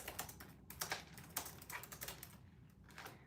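Steady typing on a computer keyboard during a home craft session, with quick clustered keystrokes and brief pauses, fairly quiet and close, no talking.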